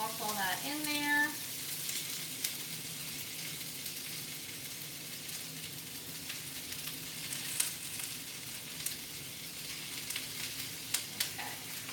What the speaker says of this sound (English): first thing we're gonna put in is the ginger, garlic, and onion. And you should get a nice sizzle.